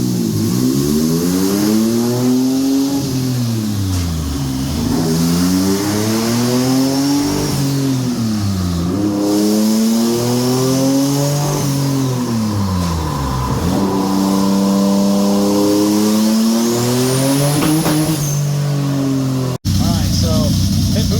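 A twin-turbo J35 engine car revs on a dyno, climbing and falling through repeated loud pulls with turbo whine rising near the end, close and dominant, then cutting off abruptly just before the end.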